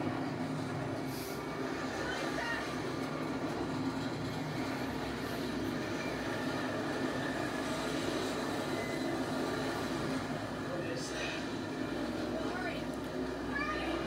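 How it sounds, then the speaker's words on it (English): A petrol tanker train rolls past steadily for the whole stretch, a continuous rumbling wash of wheels and wagons with no pause, while voices talk over it now and then. "It's a petrol tanker."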